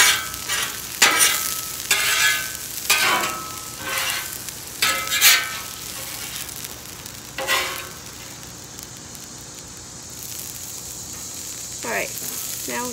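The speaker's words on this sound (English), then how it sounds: "now let's throw this onto the plate and fry it" Philly cheesesteak meat sizzling on a hot cooking plate while being stirred and scraped, a steady fry hiss broken by repeated sharp scraping strokes and clatters, with a brief voice near the end.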